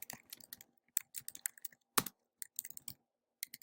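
Computer keyboard typing in quick, irregular bursts of close, crisp key clicks with short pauses between, during entry of latitude and longitude into a data search; no talking.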